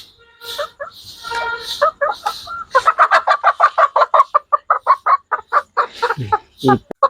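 Hens cluck in a rapid, steady series of short calls near the microphone, preceded by a few higher squawks and followed by lower grunting clucks.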